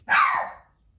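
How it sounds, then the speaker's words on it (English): A single dog bark rings out close and loud indoors, one sharp burst that trails off quickly into quiet. "that's just my dog, Cleo."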